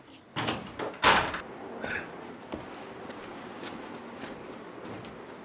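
A door fitted with new hinge pins in a film, heard as a couple of sharp knocks and clunks early on, then quieter faint thumps and rustling.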